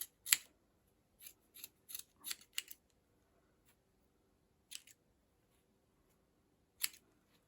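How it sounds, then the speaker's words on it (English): Scissors snip through yarn loops to make a pom pom, with sharp close cuts in uneven clusters and quiet gaps, a few snips coming in quick succession. "You're going to cut all of those loops."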